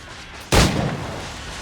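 A single sharp, loud gunshot from Assassin's Creed IV: Black Flag, with a booming crack and a reverberant tail that rolls away.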